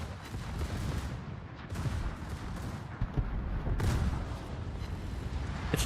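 Battleship main guns in World of Warships fire over a dense, rumbling battle bed, with repeated heavy booms spread across the clip at moderate loudness and no talk.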